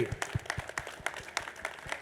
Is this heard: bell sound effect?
no